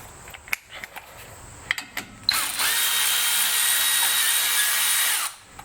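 Power tool spinning out the H5 Allen bolt that holds the rear brake rotor on a 2015 Jeep Cherokee KL: a few light clicks and taps, then a loud, steady whirring burst of about three seconds that stops abruptly, close up.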